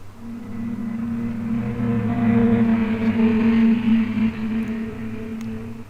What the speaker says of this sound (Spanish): has oído pasar un auto a toda velocidad junto a ti cuando estás pasando al borde de la calle